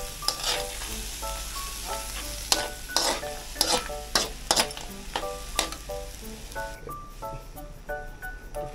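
Shrimp and crabs sauté in a hot pan before coconut milk goes in, giving a steady close sizzle broken by repeated clattering stirs.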